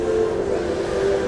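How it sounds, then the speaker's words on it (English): A referee's whistle shrills at a boys ice hockey game between Rock Ridge Wolverines and North Shore Storm, a loud sustained tone over steady arena noise. "and a whistle."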